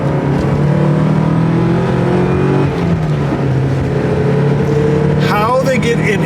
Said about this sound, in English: How they get an inline 4 to sound this good? I have no idea, but it is magical.